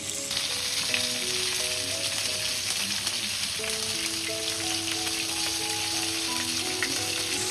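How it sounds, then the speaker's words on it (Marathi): Bombay duck (bombil) fish fries in a pan with a loud, even sizzle and spattering crackle. It is steady and close, and a faint tonal hum runs underneath. "पण आता ह्या पॅननी ना मी हे दुसऱ्यांदा बोंबील फ्राय करतोय"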